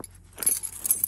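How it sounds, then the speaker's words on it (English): A bunch of keys jangles up close just before starting a modified snow vehicle in the cold: a few quick, bright metallic clinks and rattles in a short burst, with no talk. "Oh, trusty keys."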